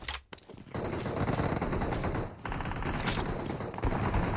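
Rapid bursts of gunfire in the PUBG video game, dense and continuous automatic fire that stays loud and close throughout with a brief lull near the start and no clear speech.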